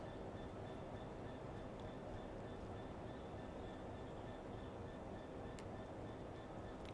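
A Class 66 diesel locomotive in a train simulator game rumbles past as a steady, continuous low drone with a faint high whine, holding even loudness throughout with no talking.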